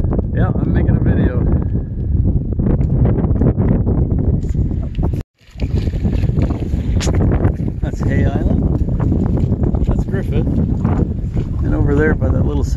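Strong gusty wind roars and buffets around a sailboat sailing with two reefs in, between Little Port Elgin, White Cloud Island and Wiarton. The rush is loud and nearly continuous, with a brief drop midway and voices underneath.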